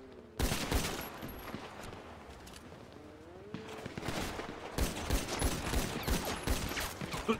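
Rapid gunfire bursts from the video game Prodigy 2.0, loud and sustained with overlapping shots and brief pauses, no talk heard.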